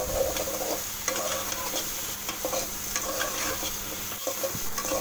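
Pointed gourd and potato pieces stirred into sizzling fried spices in a pan, a steady frying hiss under repeated scraping stirs throughout, close and continuous.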